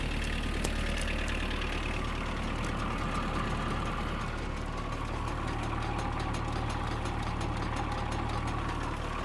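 A Mitsubishi MT-265 Japanese mini tractor's small engine runs steadily, a close knocking diesel chug held at a fairly even pace, with no voices.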